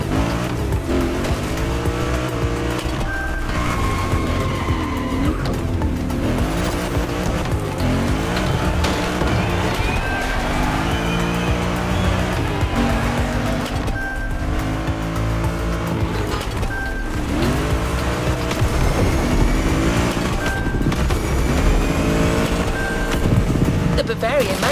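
A BMW Z4 M40i roadster in the racing game The Crew Motorfest, its engine droning loud and continuous as repeated gear shifts sweep the pitch up and down amid squealing tires, with a voice talking over it.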